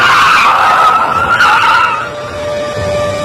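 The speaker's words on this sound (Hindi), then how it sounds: "कमल ने एकदम अचानक से बहुत तेज गाड़ी की ब्रेक लगाई।" A car braking hard and suddenly, tyres skidding in a loud, close screech that wavers, then fades into a lower rumble as the vehicle comes to a stop.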